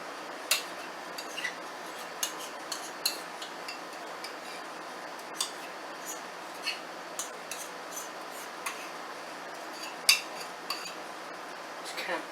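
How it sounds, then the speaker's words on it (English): Metal spoon scrapes and clinks against a dish while topping is spooned onto a turkey meatloaf, light irregular taps spread over a soft kitchen background. "We're just going to spoon this on here."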